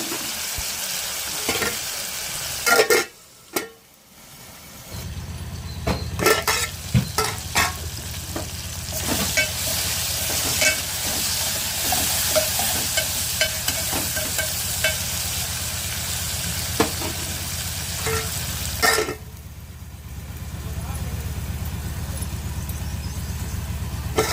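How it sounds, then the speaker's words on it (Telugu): Tomatoes cooking in a pan: steady sizzling and frying broken by sharp clicks and scrapes of a spoon stirring, with a brief drop to near quiet before the sizzle returns louder. "టమాటాలు మొత్తం వేసుకున్నాం కదా, తిప్పుకొని మూత పెట్టుకున్నాం మగ్గేంత వరకు"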